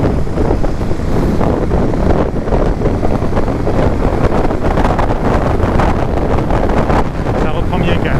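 KTM 1290 Super Duke motorcycle riding at speed and accelerating, a loud dense engine and wind roar that stays steady throughout, with someone talking in French over it.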